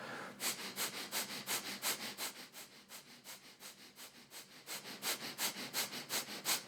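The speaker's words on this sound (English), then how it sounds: "begin fast breathing in and out through the nose, breath of fire" Breath of fire: rapid, rhythmic breaths in and out through the nose during a morning breathwork routine, a steady train of sharp, close nasal puffs about three per second, alone with no talking.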